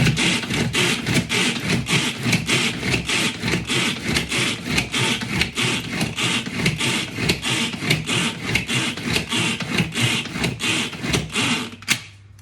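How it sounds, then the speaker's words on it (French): A Tornado hand-held pull-cord chopper whirls almond powder, butter and cane sugar, giving fast repeated rasping, churning bursts with each tug of the cord, loud and close, running steadily for about twelve seconds without talk. "On met le tout dans le tornado, le petit hachoir et on tire."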